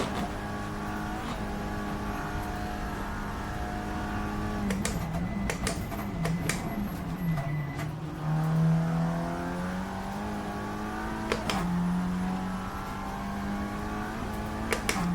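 Audi RS3 TCR race car in a racing game on the Nordschleife, a steady loud engine drone rising and falling with revs, with a few sharp gear shifts and brief clicks.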